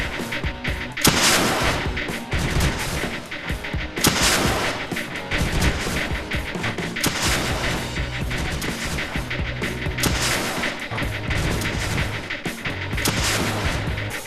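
Launcher units fire over and over in the strategy game Creeper World 2, with dense, loud, rhythmic bursts of shots and booms running without a break beneath a low humming game soundtrack.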